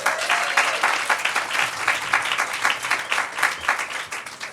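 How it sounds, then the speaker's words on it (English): An indoor audience at a university Climate Week kickoff event bursts into a short round of applause, a dense rippling clatter of many hands that stays fairly loud throughout, alone without talk. "This is our inaugural Climate Week, so give yourselves a round of applause."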